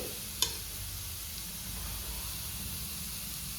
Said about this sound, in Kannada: ಬೆಳ್ಳುಳ್ಳಿ ಹಸಿ ವಾಸನೆ ಎಲ್ಲ ಹೋಗಬೇಕು, ಅಲ್ಲಿವರೆಗೂ ಫ್ರೈ ಮಾಡ್ಕೊಳ್ಳಿ